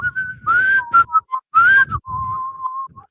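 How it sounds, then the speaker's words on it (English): A person whistles a short melodic phrase loudly and close up, with several held notes broken by brief breathy pauses and small bends in pitch, heard alone. "Sometimes I just start breaking out and whistle."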